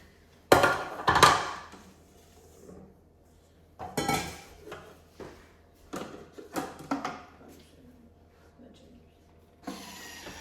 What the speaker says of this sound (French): Il faut bien mélanger.